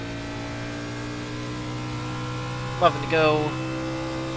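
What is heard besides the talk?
race car engine under throttle in NASCAR iRacing video game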